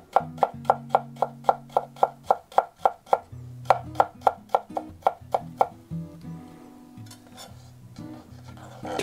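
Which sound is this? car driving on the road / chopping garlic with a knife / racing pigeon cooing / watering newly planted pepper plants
chopping garlic with a knife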